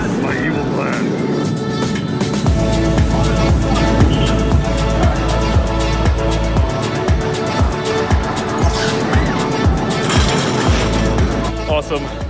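Riding the La Víbora roller coaster at Six Flags Over Texas at night brings a loud, continuous roar with rhythmic clacks of the train over track joints, swelling and rattling throughout as the car twists.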